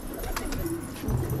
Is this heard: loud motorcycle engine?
no